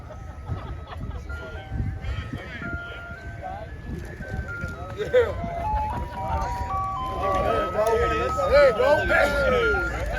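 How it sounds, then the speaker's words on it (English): An ice cream truck brought out to a Seahawks football practice plays its melodic jingle in a stepped, tinkling tune that grows louder toward the end, over a steady background of crowd chatter and outdoor noise. "He brought out the ice cream truck to the players"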